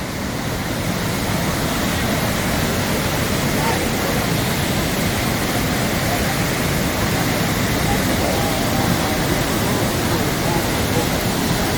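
Devi's Fall waterfall in Pokhara, Nepal, roars as a loud, dense, unbroken rush of water. The wash stays constant and fills the whole stretch.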